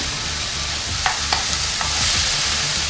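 Onions and tomato pieces cooking in a pan over medium heat for a chicken handi, a steady soft sizzle with a few light utensil taps, no voices.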